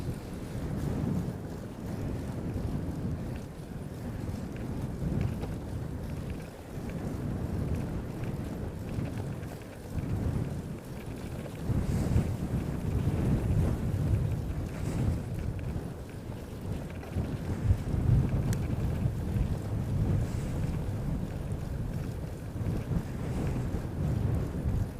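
Cold wind blowing across a microphone on a bike tour in South Korea near Daegu, a steady low rumbling buffet that rises and falls over twenty-five seconds, with no talking.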